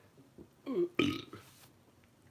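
A person gives one drawn-out burp up close, a deep guttural rumble that rises into a rough, throaty burst, with quiet background after it.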